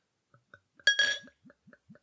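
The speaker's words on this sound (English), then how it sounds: "Pouring into my Titanic glass." Beer pours into a Titanic glass with a clink of glass and a short, bright splashing gush, set between a string of small soft ticks and taps.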